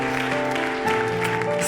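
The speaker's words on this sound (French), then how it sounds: "On les applaudit" An audience at a church worship gathering applauds young people, a short burst of dense clapping over steady background music.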